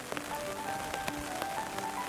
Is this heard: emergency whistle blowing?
no